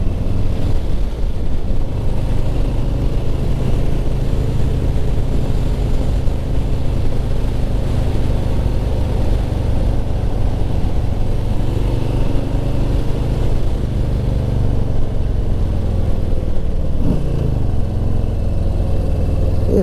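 A 2020 Harley-Davidson Softail Slim with its 107 engine rumbles along on a road test, a deep continuous engine drone that holds steady while riding, with a brief shift in tone near the end.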